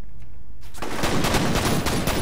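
Pistol gunfire in the shooter F.E.A.R. erupts after a quiet start, a loud rapid string of shots echoing densely and continuing to the end.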